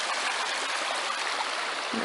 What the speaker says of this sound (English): Little waterfall thing going on.